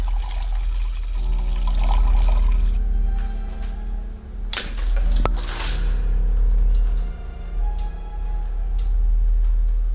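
Water poured into a glass at home, a continuous close splashing trickle lasting several seconds with soft handling knocks, and no talking.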